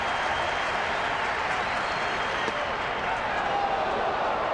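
A baseball stadium crowd in the fifth inning cheering and clapping to urge on the pitcher, a dense, continuous roar of applause and voices filling the space at a steady, loud level.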